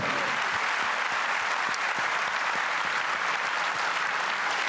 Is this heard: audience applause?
yes